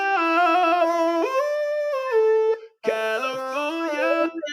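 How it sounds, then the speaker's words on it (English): An ElectroSpit talk box played as a melody, with a voice shaping rich buzzy harmonic synth notes into vowel-like singing, sustained and loud with a brief gap before a second phrase. "So talk box sounds like this."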